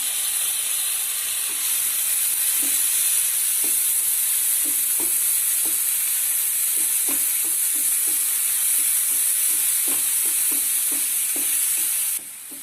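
Steady loud hissing sizzle from a hot pan as chopped tomato cooks with egg and bread, broken by regular soft scraping taps of a spatula stirring, close and continuous, with no voices.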